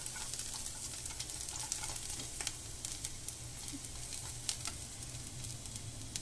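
Garlic frying in a pan for Pad Thai, a constant close sizzle with light crackles and occasional stirring clicks, no voices.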